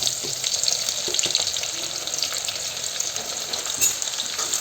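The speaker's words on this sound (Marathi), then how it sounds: "हे पहा कांदा मस्त परतून झालेला आहे आपला" Onions fry in hot oil with cumin seeds, producing a loud, steady close-up sizzle with light stirring noises throughout and no voices.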